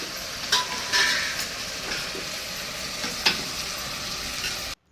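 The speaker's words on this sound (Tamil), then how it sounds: "நல்லா வந்து மிக்ஸ் பண்ணி வதக்கிக்கலாம்." Vegetables sizzle in a hot pan while being stirred, with occasional scraping and clinking of a spoon, before the sound cuts off abruptly.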